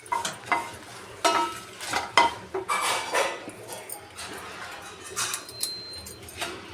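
Spices dry roasting in a pan on a stove, stirred with a utensil in repeated scraping and clinking strokes, close and moderately loud, with a faint sizzle underneath.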